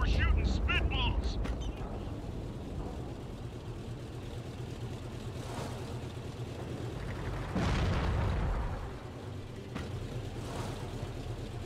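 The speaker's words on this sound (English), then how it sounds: "I know I heard explosions nearby." Deep, muffled explosions boom a couple of times over a steady rumble of game noise in World of Tanks, with one big blast standing out near the end.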